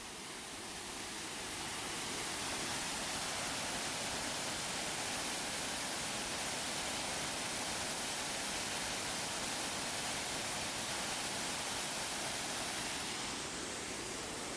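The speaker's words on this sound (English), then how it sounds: "And there's two sets of waterfalls here." Waterfall at Minneopa State Park beside an old stone bridge, a constant loud, broadband rush of falling water filling the whole stretch without pause.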